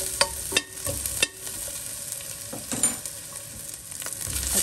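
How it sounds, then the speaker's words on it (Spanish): Onion pieces frying in a little oil in a pot, a steady close sizzle broken by a few sharp clicks and scrapes of a utensil stirring. "voy a poner un poquito de aceite y unos pedazos de cebolla"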